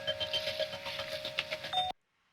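A chime sample with tremolo added for an ambient track gives a steady pulsing bell tone that wavers in level, then cuts off abruptly into silence, with no talk.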